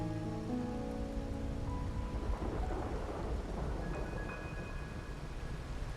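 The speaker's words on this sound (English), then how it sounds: "My granddaughter told me Raguna's rain is a bad omen." Heavy thunderstorm rain in the Wuthering Waves video game falls as a dense, steady hiss, with rolling thunder rumbling underneath and faint sustained tones early on; no voices.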